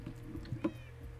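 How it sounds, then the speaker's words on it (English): Pet cats in the video game Minecraft give a couple of short, clear meows, close and distinct over a low background hum. "It's so cool we have pets now. Come on, kitty cats."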